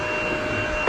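A new cordless vacuum cleaner runs with a steady, loud whirring motor hum throughout, and a brief louder burst comes right at the end.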